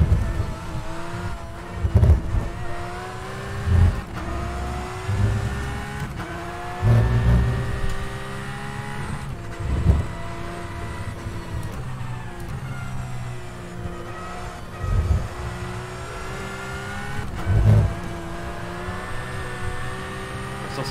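A Porsche Cup race car in the rFactor 2 sim sends out a steady, harmonic engine drone that rises and falls as it brakes and accelerates through corners, with brief low thumps scattered across the lap.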